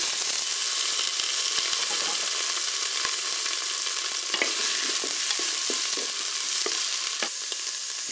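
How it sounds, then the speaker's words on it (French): Tofu frying in olive oil in a Cookeo multicooker, a dense steady sizzle and crackle filling the whole stretch, with occasional faint clicks and scrapes of stirring, close and uninterrupted by any voice. "Le préchauffage est terminé, je vais faire revenir le tofu."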